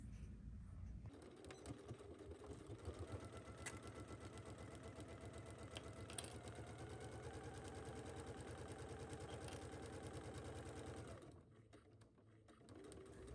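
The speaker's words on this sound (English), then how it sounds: "We are going to take this to our sewing machine and sew this down at 5/8." A sewing machine runs steadily while stitching a 5/8 seam in fabric, a fast even mechanical chatter held for about ten seconds before stopping briefly and then starting again.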